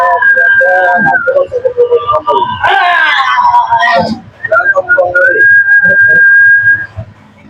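Someone whistles a sustained tune, loud and close, with a few short breaks and a brief burst of busier noise in the middle; speech-like sounds mix in around the whistled notes.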